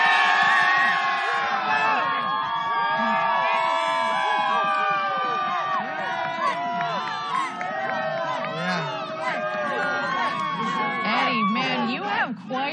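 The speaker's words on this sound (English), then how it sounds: "Quite the crowd down there" Big crowd at a New Glenn rocket launch viewing site cheering, whooping and shouting steadily throughout, with loud overlapping voices and excited yells from people close by.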